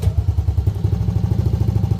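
A Yamaha Aerox v2 scooter engine idles after a manual idle speed control adjustment, a steady, close, throbbing low putter with even rhythmic pulses.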